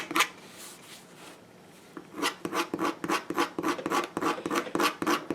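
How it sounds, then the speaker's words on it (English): Repeated rasping scratches from a tool dragged over and over across a wreath surface to score lines into it, a quick steady run of close strokes following a brief quiet gap near the start. "go over it several times to get a lot of scratches"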